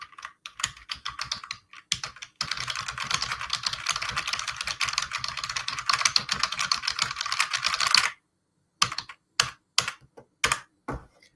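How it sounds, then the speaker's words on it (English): Computer keyboard typing close to the mic during a live writing session: scattered clacking keystrokes, then a dense burst of rapid continuous typing, then a pause and a few more spaced key presses, with no voices. "That's what my keyboard sounds like."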